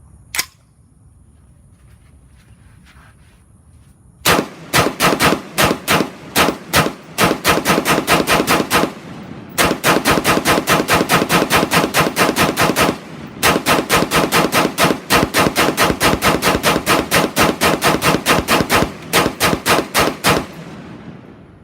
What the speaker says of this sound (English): we're going to fire a consecutive 200 rounds, and just basically to show that the heat does not really affect this polymer whatsoever